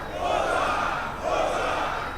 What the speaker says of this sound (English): Give yourself 3 Boza.